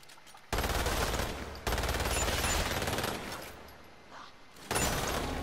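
Sustained automatic gunfire in the video game Umbrella Corps, loud dense bursts that cut in and out abruptly with short silent gaps between them, no talking.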